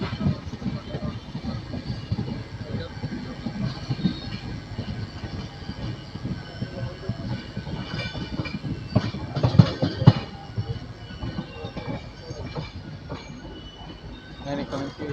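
A train at platform 1 of an Indian railway station rumbles past, its wheels squealing and screeching in bursts over a loud, continuous clatter.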